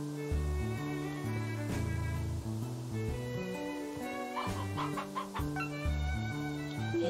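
A video game chicken clucks repeatedly in short bursts over a steady backdrop of game music.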